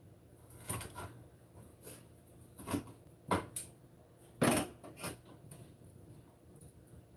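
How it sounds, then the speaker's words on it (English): Green peppers and other chopped food tossed into a cooking pan, heard as scattered clattering knocks and metallic clinks at close range, several distinct thumps spread irregularly with quiet gaps between. "I'm about to throw it all in that pan."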